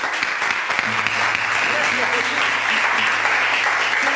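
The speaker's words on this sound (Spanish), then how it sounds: "Dale un aplauso a Cristo." A church congregation applauds steadily, a dense wash of clapping filling the room from start to finish while a voice and a low sustained tone sit beneath it.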